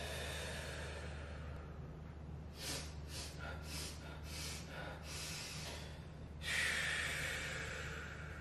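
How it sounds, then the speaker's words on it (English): Several slow breaths drawn in and let out near a microphone, soft airy rushes over a steady low background hum, ending in a longer, louder exhale. "Breathe in and out."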